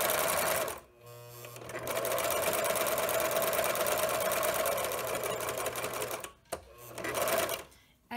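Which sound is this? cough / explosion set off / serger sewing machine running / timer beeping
serger sewing machine running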